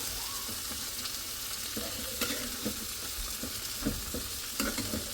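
Softened onion and tomato frying together in a pan, a constant close sizzle with occasional stirring scrapes and clicks.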